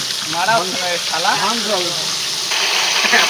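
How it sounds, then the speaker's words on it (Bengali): Big katla fish heads fry in hot oil, giving a steady, loud sizzle close by, while a voice talks over it through most of the stretch. "এটা মাছ ভাজা হচ্ছে মাছের মাথা ভাজা চলছে"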